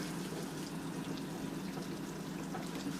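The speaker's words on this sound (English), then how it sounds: "We're going to add our beef broth." Beef broth poured into a pan over tomato paste for an Irish shepherd's pie, a steady close liquid wash with soft trickling and splashing, continuous and unbroken throughout.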